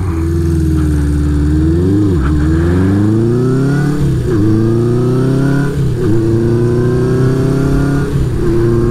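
A 1975 Honda CB550 motorcycle engine drones loudly while riding, its pitch rising steadily through gears with brief dips at each shift, close and continuous.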